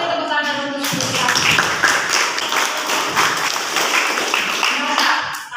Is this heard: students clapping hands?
yes